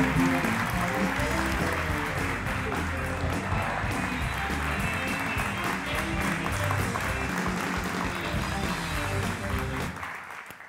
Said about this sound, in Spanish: Un aplauso para Elena González.